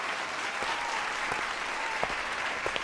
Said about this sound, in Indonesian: barulah salah satu penonton bertepuk tangan pelan diikuti tepuk tangan meriah dari yang lain